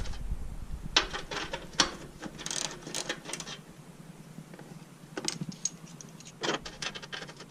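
A ratchet wrench removes 10mm bolts near the radiator of a 2004 Toyota Camry 3.3L, giving rapid, close clicking bursts in several separate runs with short pauses between them, and no talk.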